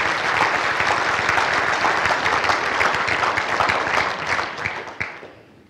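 Loud sustained clapping from an audience at a college signing day ceremony, a full dense round of applause that holds steady before thinning out and fading over the final second.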